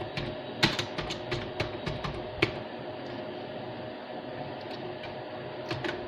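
Fingers tap out HTML code on a computer keyboard, a brisk run of close clicking keystrokes at first that thins to a few scattered taps over a steady room hum.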